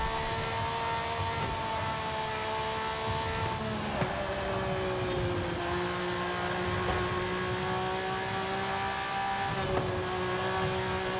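Car engine in the racing game Forza Horizon 5, droning steadily at moderate volume with gradual pitch shifts as the driver eases on the power, plus a couple of brief dips, with no talk over it.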